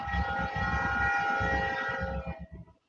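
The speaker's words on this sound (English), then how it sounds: "I hear a train going by Mama's house." A very loud train rumbles past a house, its steady roar and horn-like drone filling the first two seconds before fading quickly away.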